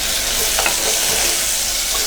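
Chopped tomatoes sauté in an oil-filled pan for a spinach kootu, giving off a steady, close sizzle with a faint scrape of stirring partway through.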